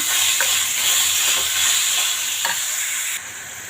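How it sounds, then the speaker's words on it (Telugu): Sesame flour curry sizzles loudly in a hot pan while a spoon stirs it, a few distinct scraping strokes cutting through the continuous frying hiss. "ఇప్పుడు మనం ఇందులో తెలపిండి వేసేసుకుందాము ఇదంతా ఒకసారి బాగా కలిపేసుకున్నాము"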